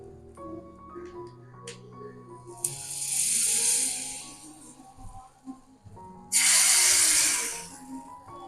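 Tempering of a dried red chilli, curry leaves and pepper-cumin powder sizzles loudly as it is poured into drumstick rasam, two bright bursts of hiss a few seconds apart over quieter kitchen background.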